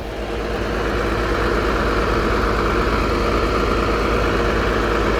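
Engine-driven water pump running steadily at a roadwork site, pumping water onto a dusty road; a continuous, fairly loud idling engine drone with low rumble and no pauses.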